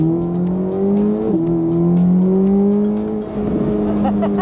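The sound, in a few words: Corvette ZR1 mid-engine revving and downshifting while driving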